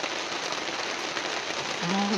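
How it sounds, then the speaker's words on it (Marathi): Steady rain falls on a hillside with a constant hiss of drops, and a brief voice or tone surfaces near the end. "परत पावसाने केली सुरुवात"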